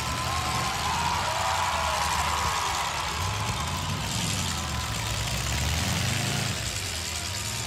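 A race car engine runs steadily at a low, rough idle in the background of a Halloween Havoc event, with a continuous rumble and a broad high wash of crowd and ambient noise throughout.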